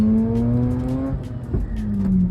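A Mazda RX-8's Wankel rotary engine revs up in a smooth rising whine, dips, then climbs again, close and loud.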